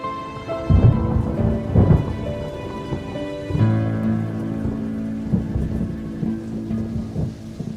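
Rain falls hard with thunder, heavy steady downpour broken by deep rolling booms near the start and again midway, loud and with no voices.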